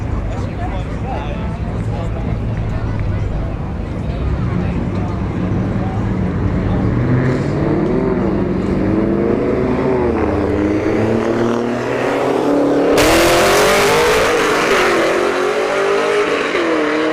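Two cars drag racing side by side on a strip, a cammed 5th gen Camaro and an Alfa Romeo Stelvio Quadrifoglio, their engines droning and rising in pitch as they accelerate away, loud and steady, with a sharp burst of noise near the end and an announcer talking over them.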